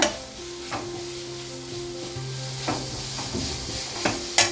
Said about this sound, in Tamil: தீயை நல்லா ஃபுல் தீயிலே வச்சு வதக்கணும்.